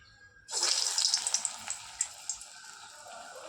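Coriander bonda dropped into hot oil bursts into a sudden loud sizzle, then settles into steady bubbling frying with scattered crackles that slowly fade.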